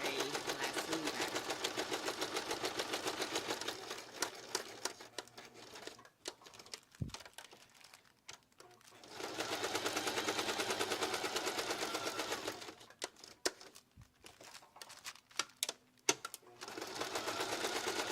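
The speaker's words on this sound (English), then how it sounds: "I'm just going to do the regular stitch here so you can see how you can sew a glassine bag" A sewing machine runs a regular straight stitch on a glassine bag, whirring steadily in two long runs with a brief pause of stops and clicks between them, close and fairly quiet.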